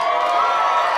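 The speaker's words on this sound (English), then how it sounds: "Some people wooing, some people clapping." An audience at a Wednesday-night comedy show in a mall cheers and claps, a brief, steady burst of whoops and applause from a modest crowd.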